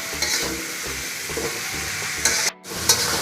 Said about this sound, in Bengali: মশলা কষায় নেব।